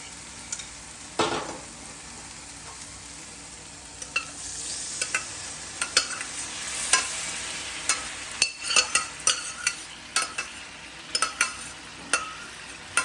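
Masala stirred and frying in oil in a pan for a Gujarati toor dish: steady close sizzle under repeated sharp scrapes and clacks of the spoon against the pan, with no voices.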